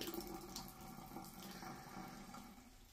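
Faint liquid splashing and trickling as leftover flat Coca-Cola is poured down a sink, a soft steady pour with a low background hiss and no voices.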